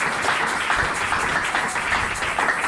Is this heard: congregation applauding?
yes